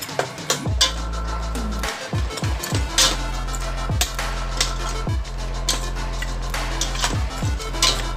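Spicy chilli pork with soy and oyster sauce stirred in a pan, irregular clanks and scrapes of a metal utensil against the pan at close range, spaced through the clip over a low background hum.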